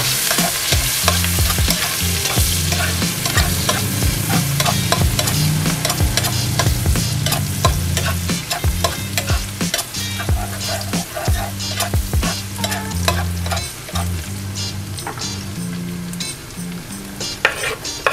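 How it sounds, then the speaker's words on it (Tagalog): Onion and garlic sauté in hot oil in a pan for chicken caldereta, a loud continuous sizzle with stirring clatter running steadily throughout, no voices. "So, magigisa lang tayo ng sibuyas and garlic."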